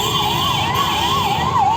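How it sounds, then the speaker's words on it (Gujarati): An ambulance siren wails in a steady rising and falling pattern, loud and close, over a constant engine drone. "હા એમ્બ્યુલન્સ કાંઠે આવે છે ભાઈ."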